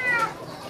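A Bengal cat meows once in a short, bright cry, heard close against a noisy indoor background with faint voices nearby.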